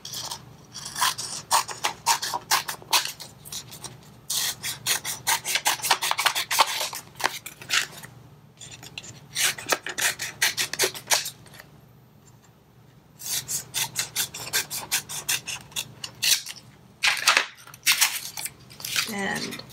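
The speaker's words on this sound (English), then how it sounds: "Just want to burnish this down really well" A tool burnishes layered holographic vinyl decal material onto its backing. The close, loud rasping comes in bursts of rapid back-and-forth rubbing strokes, broken by short pauses and one longer quiet gap midway.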